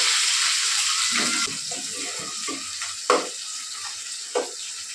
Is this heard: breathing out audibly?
no